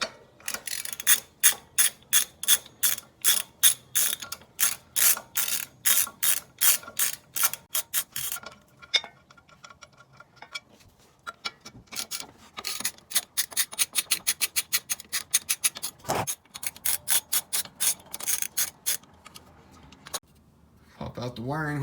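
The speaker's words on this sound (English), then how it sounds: "let me find a socket so you can start taking this apart. Correct size is a 10." A ratchet with a 10 mm socket clicks in long rapid bursts while Jeep JL Rubicon parts come apart, loud and close, with pauses and a few clunks between runs of clicking.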